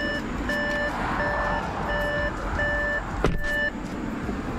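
Audi RS7 door-open warning chime, a steady series of evenly spaced electronic beeps repeating close by inside the car over a low engine rumble, with a brief knock near the end.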